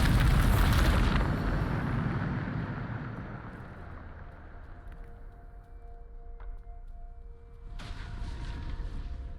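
A Bombarda spell blast in Hogwarts Legacy: a loud, deep explosive boom that fades into a long rumbling tail, with faint tonal game sounds and a second rush of debris noise near the end.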